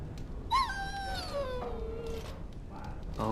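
A dog in the Dragon Age video game whines in a long, rising and falling high-pitched cry, followed by shorter whimpers over a low background hum.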